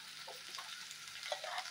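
Ivy gourd sautéing with spices in a pan on the stove, giving a soft, continuous sizzle with faint stirring scrapes. The sound is quiet and brief, with no talking.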